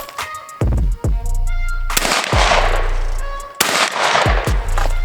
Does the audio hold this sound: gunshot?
yes